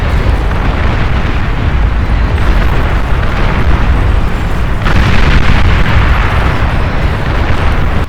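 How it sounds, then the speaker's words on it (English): Base buildings, including labs, fusion reactors and economic structures, blow up in a chain of explosions in the real-time strategy game Beyond All Reason: a loud, sustained roar of overlapping blasts with a fresh burst about halfway through. "Any lab for that matter gives quite a big explosion, but watch the chain."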